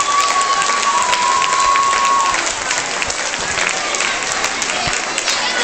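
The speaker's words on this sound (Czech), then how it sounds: "Zatleskejme jim všem z této kategorie." Audience at a children's fitness competition results ceremony in Vizovice clapping loudly and steadily, a dense crowd applause that eases off slightly midway and continues to the end.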